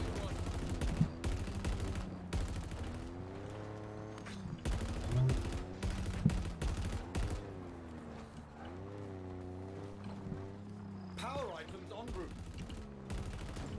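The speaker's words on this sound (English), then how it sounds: "our teammate can't aim this fucking machine gun" Repeated machine gun fire in a multiplayer video game, rapid bursts running steadily through the stretch beneath louder speech and game effects.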